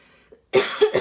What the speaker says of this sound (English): I have this weird cough